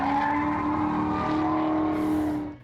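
Several car engines roar continuously with a steady, loud tonal drone and faint tire noise, the sound fading out near the end.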